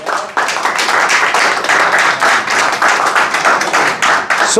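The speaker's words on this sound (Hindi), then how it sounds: "तो ज़ोरदार तालियां अपने लिए" Loud, close applause from an audience at a stress management talk, with fast, sharp individual claps in a dense, brisk rhythm and a brief pause near the start.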